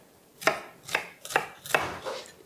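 A knife cuts shallots into cubes on a board, four crisp evenly spaced chops close by with a quiet pause between each and no talking.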